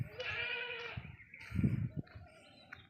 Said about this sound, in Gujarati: બકરા બોલે મે